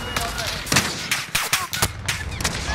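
Gunfire in the Call of Duty Warzone video game, loud bursts of rapid shots and impacts crowding the whole moment, close and dense, with voices mixed in.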